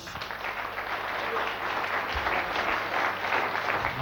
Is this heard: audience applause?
yes